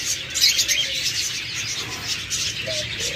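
Caged diamond doves chirp in a small flock, a dense steady chatter of high tweets with occasional soft calls standing out throughout.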